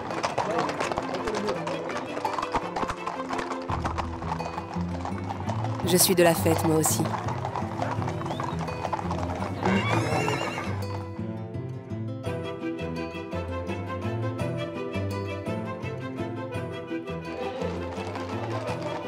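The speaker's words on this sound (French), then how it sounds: "Spectacle rare, j'assiste à la bénédiction des chevaux à Berlétan." At a horse blessing festival in southern France, hooves clop irregularly amid a lively crowd, with bursts of cheering and music, while a person speaks over the mix.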